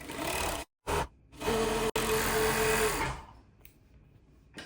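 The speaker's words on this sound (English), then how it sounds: "I'm gonna start at the cuff and sew all the way up" A sewing machine stitching a cardigan sleeve seam from cuff upward, whirring in short bursts broken by brief stops, then a longer continuous run before it falls quiet.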